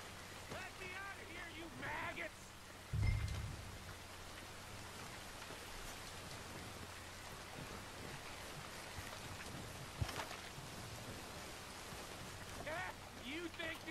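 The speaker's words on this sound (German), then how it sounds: "Jetzt regnet es auch noch." Rain falling in Red Dead Redemption 2, a soft, steady patter on surfaces, heard faintly throughout with a dull thud and occasional quiet voices in the background.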